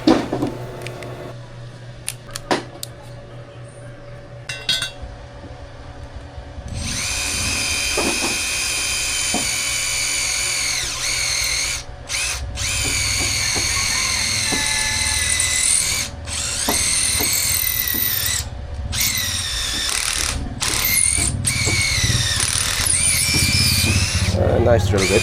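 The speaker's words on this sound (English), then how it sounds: "Nice drill bit, it can penetrate the concrete and create the holes." A power drill fitted with a metal-cutting bit bores into concrete, a sustained high whining grind that runs loud and close for most of the stretch with brief pauses, after a quieter opening.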